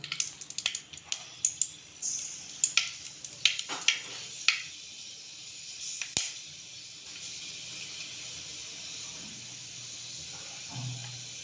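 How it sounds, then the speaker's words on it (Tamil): Fenugreek seeds in hot oil for a fish curry: sharp crackling pops over a steady sizzle, busy at first and then thinning out to a quieter hiss. "வெந்தயம் நல்லா வெடித்து வரணும்"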